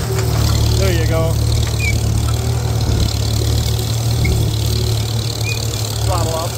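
A Farmall M tractor engine runs steadily and loudly while pulling a disc across a field, a constant low throbbing drone with someone talking over it.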